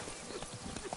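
Roach, Geralt's horse in The Witcher 3: Blood and Wine, galloping in a short, busy burst of quick hoofbeats with what seems to be talk mixed underneath.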